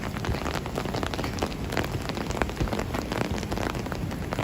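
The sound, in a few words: rain falling in the city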